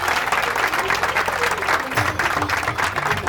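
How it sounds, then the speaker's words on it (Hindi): Audience at a community annual function in Dubai breaks into sustained, dense applause, loud and close, with crowd noise and some voices mixed underneath throughout. "एक बार उनके लिए जोरदार ताली बजाएं।"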